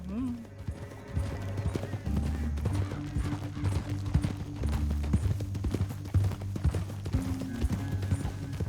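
Horse hooves clip-clop steadily in the Red Dead Redemption 2 video game as a rider travels, with talk and background game sounds mixed in.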